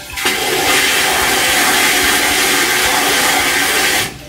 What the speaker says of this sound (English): You take your sprayer, and I'll just show you in the toilet here.